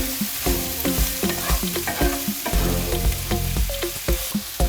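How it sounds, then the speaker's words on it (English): A spoon turns potato hash with dried thyme, rosemary, oregano and parsley in a sizzling pan, giving repeated close scraping strokes over a constant fry, with light music underneath. "And give it a stir again."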